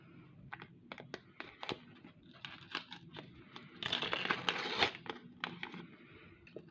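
A small paper collectible packet is torn open and crinkled by hand, with close, irregular rustles and tearing that build to a louder burst of crinkling before settling into lighter handling.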